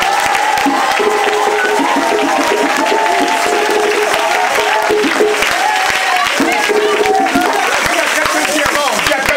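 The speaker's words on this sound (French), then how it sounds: "Est-ce qu'on peut acclamer Jésus-Christ" A church congregation at a French-language service applauds and cheers to acclaim Jesus Christ, with loud, sustained clapping and crowd voices filling the room throughout.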